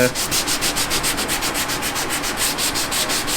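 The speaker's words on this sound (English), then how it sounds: "We might just try to scuff it up" A boat keel is scuffed by hand in quick, even back-and-forth strokes, a close, dry, rhythmic rasping that repeats about six times a second with no voices.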